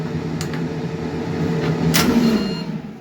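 An air fryer runs steadily while baking a chocolate lava cake at 180 degrees, a close, even motor and fan hum with a couple of faint clicks.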